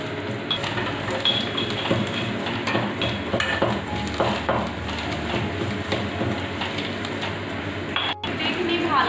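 Curry leaves and salt frying in hot oil and being stirred for masala dosa and sambar, a steady sizzle with scraping and clinks of a utensil against the pan, under a voice talking.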